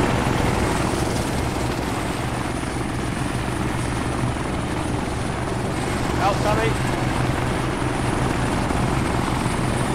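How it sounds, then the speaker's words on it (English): Helicopter departing during a tactical team training exercise, a loud continuous rotor and engine roar filling the scene throughout, with people shouting over it nearby. "Okay, chopper's clear."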